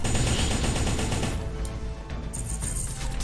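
Rapid, dense bursts of missile fire from a mech in the game M.A.S.S. Builder, loud and continuous at first and then slightly thinner, heard alone without talk.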